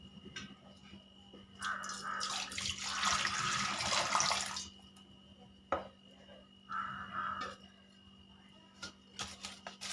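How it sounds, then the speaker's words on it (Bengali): Water poured into a wok to boil lentils, a close splashing gush that rises for about two seconds, then a shorter second pour, with light clinks of utensils around it in a quiet kitchen. "কড়াইতে দিয়ে দেব পানি"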